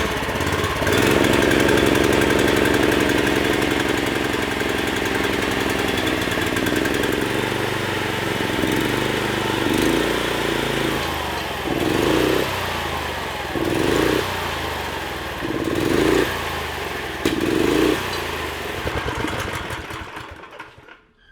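A 420cc Murray go-kart engine roars loudly and steadily, then revs up in a series of about five rhythmic bursts before cutting off at the end.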